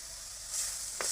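Ingredients for pirandai chutney, adder's-creeper stems with salt, sauté in a hot pan, giving a steady quiet sizzle with a brief stirring scrape near the end.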